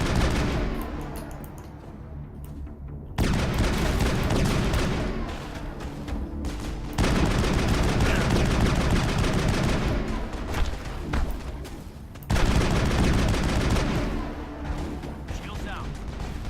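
Gunfire rattles in bursts during a firefight in the video game Mass Effect on Eden Prime, dense volleys broken by short pauses, with game voices calling out between shots.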